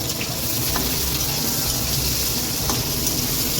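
Potatoes fry in a pan in a small home kitchen, producing a loud, dense, continuous sizzle with no pauses.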